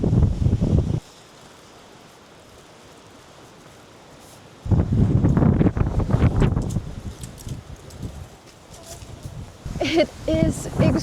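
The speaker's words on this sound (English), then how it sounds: "It is extremely windy over here" Gusty wind buffets the microphone at cliffs beside an old town, roaring loud in bursts with a quiet lull between, while people talk over it.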